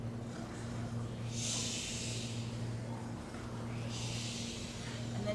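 A person imitates snoring for a children's bedtime story, giving two long breathy snorts spaced a few seconds apart over a steady low hum, with no speech between them.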